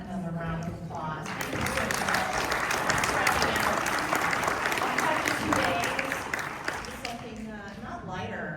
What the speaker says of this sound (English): let's give Trina another round of applause